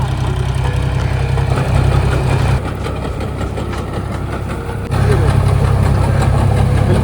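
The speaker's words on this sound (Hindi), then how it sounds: "इस ट्रैक्टर से खुदाई चालू है।" Tractor digging up ripe potatoes in a field, a steady loud rumbling engine drone with a brief dip in level midway, close by, while a person talks over it.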